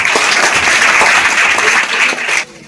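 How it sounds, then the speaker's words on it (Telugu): Audience applause at a school event in a government high school, where students receive items from a local MLA: dense, loud clapping from a crowd that holds steady for over two seconds, then cuts off abruptly. "ఒకసారి అందరూ చప్పట్లు ఉండండి"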